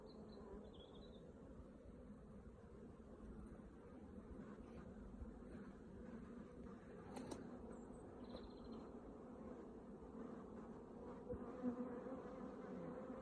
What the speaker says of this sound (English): There are bees everywhere now